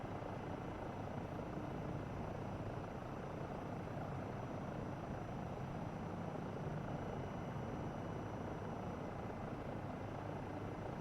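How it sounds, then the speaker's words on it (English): A helicopter in Microsoft Flight Simulator 2024 flies low over jungle island terrain, a steady, unbroken rotor-and-engine drone that stays loud and constant throughout with no voices. "if they can react to the helicopter flying overhead"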